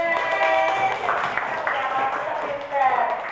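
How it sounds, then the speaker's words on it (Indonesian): Students in a classroom clap together briefly, a moderate patter of applause mixed with chatter and voices talking over it. "Ya, tepuk tangan."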